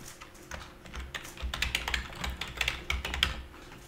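Fingers type a password on a computer keyboard, a quick irregular run of close, light key clicks with a few firmer taps, heard alone at low volume.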